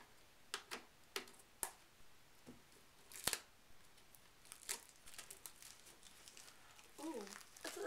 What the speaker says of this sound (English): It's in a plastic wrap. Just take this off.